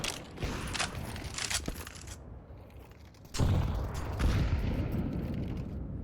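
Rapid spray of gunfire during a competitive Counter-Strike match, quiet clattering bursts of shots followed by a louder, denser volley of automatic fire partway through.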